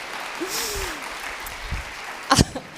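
Audience applause at a live storytelling talk, a soft steady patter of clapping from a crowd filling the room at moderate distance, with a brief sharper burst of handclaps or a cough near the end.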